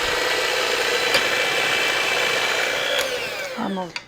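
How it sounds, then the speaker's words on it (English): An electric mixer whirs steadily close by as Duncan Hines Jello cake mix batter is beaten for a Southern rum cake, a constant motor hum that slows and winds down near the end. "we'll gradually add this as we beat it"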